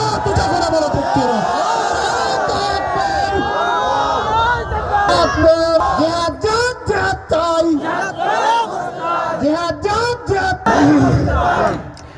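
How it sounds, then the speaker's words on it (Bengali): A large crowd at a religious rally shouts in loud unison, a chant of raised voices rising and falling in repeated bursts with brief gaps, dense and close throughout. "তাকবীরের আওয়াজ তোলো"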